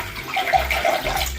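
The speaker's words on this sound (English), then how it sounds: "I pour the water into the bowl." Water is poured into a bowl for a simple kids' science experiment, a close, continuous splashing gurgle that lasts a moment, with no voices.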